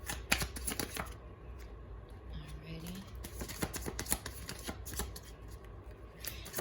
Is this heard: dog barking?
no